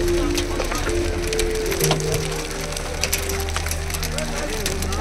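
Heavy rain falls at a tea garden, with a dense, steady patter drumming on a nearby surface throughout as a person talks over it.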